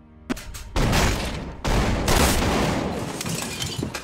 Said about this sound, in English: and a shootout ensued